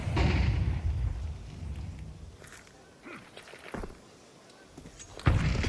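Grenades go off during a professional Counter-Strike match, MOUZ against Astralis, as muffled low booms at the start and again near the end, with faint footsteps and quieter game noise in between.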